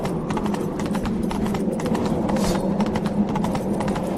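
A steady, continuous gallop of a horse in The Witcher 3, hooves drumming in a fast even rhythm at close range, with no talk over it.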